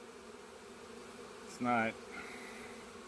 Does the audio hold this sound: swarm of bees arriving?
yes